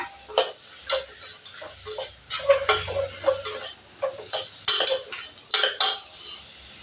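Mutton frying with masala gravy in a pan, giving irregular scraping, clinking and light sizzling taps from the stirring spoon, close and moderately loud with no voices.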